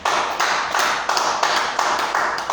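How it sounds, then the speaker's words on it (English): An audience claps for the first speaker at a marketing plan presentation, giving a steady, fairly loud patter of many hands that pulses in quick even surges throughout. "Let's clap for the first speaker."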